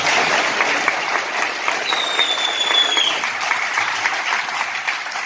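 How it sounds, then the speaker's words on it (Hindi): Audience at a Christian sermon gathering giving sustained applause, a dense, even wash of clapping from many hands throughout. "अभी तक जो सुने हैं उसके लिए अच्छी ताली सिर्फ यीशु के लिए।"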